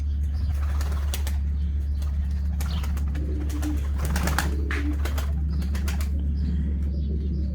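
Pigeons in a coop make soft cooing and brief wing flaps that carry over a constant low hum. Scattered rustling sounds fairly close, with no speech.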